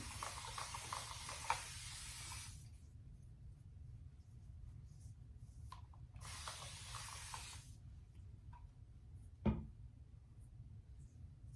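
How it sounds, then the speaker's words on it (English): A spray bottle hisses water onto a face in several quick bursts before shaving, followed by quieter rustling and a sharp click or tap. "let's spray the face down with some water here"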